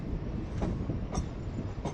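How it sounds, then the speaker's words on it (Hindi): A passenger train pulls out of Partur railway station in India, a steady rumble with faint periodic clicks from the wheels, heard from inside the carriage, with no talk. "6:59 को हमारी ट्रेन परतूर रेलवे स्टेशन से रवाना हो चुकी है"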